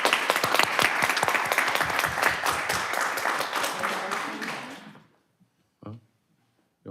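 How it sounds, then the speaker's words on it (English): An audience at a city council meeting in Mountain House, California bursts into loud, sustained applause for about five seconds, then the clapping stops abruptly and a few faint scattered sounds follow in near-silence. "So give them another round of applause."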